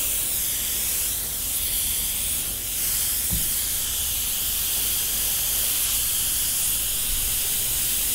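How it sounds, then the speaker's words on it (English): An airbrush sprays paint onto bat artwork in a continuous, steady hiss, close and alone, with a faint tap partway through. "To break up that smoothness from the airbrush."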